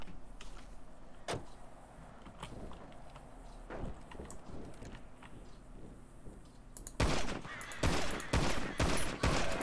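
Gunfire from target shooting in GTA V, scattered single shots at first, then a louder burst of rapid cracks near the end, with no talk.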